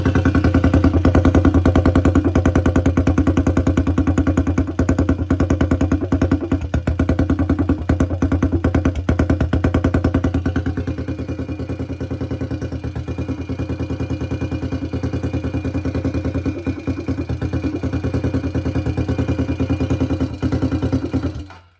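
The single-cylinder engine of a 2008 Honda 400EX ATV, just repaired after running out of oil and melting its piston, idles steadily near the exhaust with a constant rough, clattering drone for about twenty seconds before cutting off.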